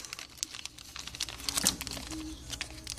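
A glue-taped package holding a returned EEPROM is torn open by hand, producing close, irregular crinkling and tearing with sharp scattered crackles and rustles of tape and cardboard.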